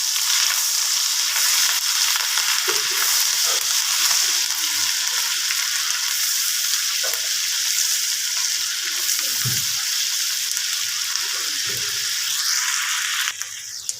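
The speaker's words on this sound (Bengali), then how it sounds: "একটু পেঁয়াজ বাটা, একটু রসুন বাটা, আদা বাটা ভালোভাবে নেড়ে নিই" Onion, garlic and ginger paste fries steadily in a pan, a continuous close sizzle with scattered scraping knocks as it is stirred, running the whole time without talk.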